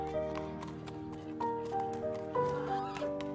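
Hooves of a horse pulling a cab clip-clop in an uneven, steady rhythm while a horse whinnies, all set against a sustained musical bed.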